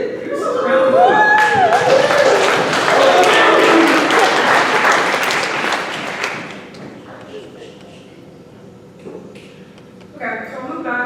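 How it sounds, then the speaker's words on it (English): An audience at a poetry reading breaks into loud, dense applause that swells for several seconds and then fades, with scattered thumps and voices and talk resuming afterward. "Give yourself a round of applause."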